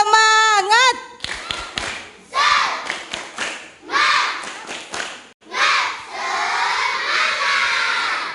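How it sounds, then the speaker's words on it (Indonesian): Children in a school group clap a rhythmic cheer pattern in bursts, with a harmonic voice call at the start and lively shouting mixed between the sharp claps. "Tepuk semangat."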